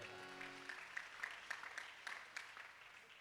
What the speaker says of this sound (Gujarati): જોરદાર તાળી વધાવો